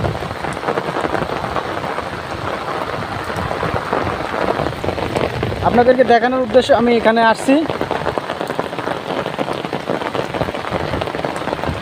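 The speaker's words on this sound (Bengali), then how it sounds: "কি পরিমাণ বৃষ্টি হইতেছে।" Heavy rain pours steadily in a loud, dense hiss during monsoon flooding, with someone speaking over it for a few seconds in the middle.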